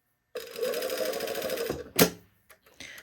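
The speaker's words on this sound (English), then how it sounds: "now we're going to be sewing on the sleeve, not on the gathers, but above it on the sleeve" Sewing machine stitching a dress sleeve, a close rapid mechanical whir running about a second and a half, then a sharp clack and a few small clicks.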